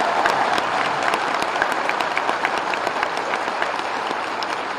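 A crowd at a comedy event applauds loudly and continuously, thick clapping holding an even level from start to finish with no talk on top.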